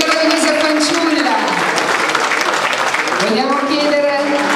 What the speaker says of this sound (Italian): Facciamo un applauso a questa meravigliosa fanciulla!